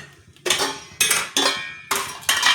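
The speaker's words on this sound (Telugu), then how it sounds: "ఇలా పక్కన మరొక బాండి పెట్టుకొని తాలింపుకు కావాల్సిన కొంచెం ఆయిల్ వేసుకోవాలండి." A metal cooking pan is set down on a stove and oil is added, giving four sharp metallic clanks and scrapes, close and distinct with short pauses between them, no voices.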